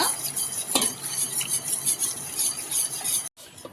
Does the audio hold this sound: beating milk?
yes